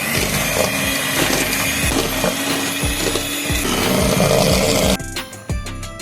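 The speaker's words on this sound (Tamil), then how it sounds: "இப்போ இதை நல்லா நம்ம பீட் பண்ணிக்கலாம்." An electric mixer beats 250 g of butter with 250 g of brown sugar for a Christmas plum cake: a loud, steady whir with rhythmic knocks of the beaters against the bowl, briefly cut near the end before restarting.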